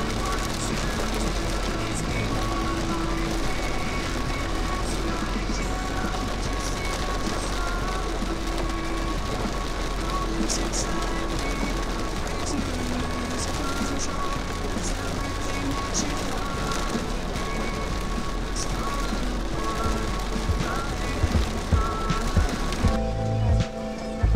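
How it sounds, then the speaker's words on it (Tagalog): Heavy rain pours steadily on the way to Tagaytay, a dense constant hiss and patter on surfaces that holds evenly for a long stretch, with faint low rumbling beneath. "It's raining so hard"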